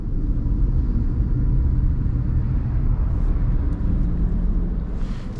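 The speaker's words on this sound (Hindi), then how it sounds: "एक बार दूसरे गियर में भी गाड़ी को उठाने की कोशिश करता हूं कि कितना क्या जो लैग है वो यहां पे महसूस होता है टाटा पंच में" A Tata Punch car pulls hard in second gear, its engine giving a steady, close, heavy rumble with road noise throughout and no voices.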